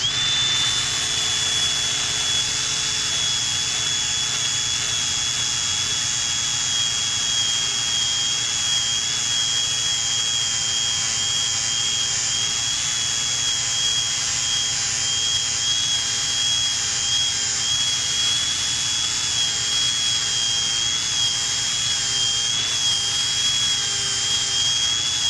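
An angle grinder with a flap disc sharpens mower mulch blades, a loud sustained high-pitched whine with steady grinding hiss, close and constant for the whole stretch, no talk.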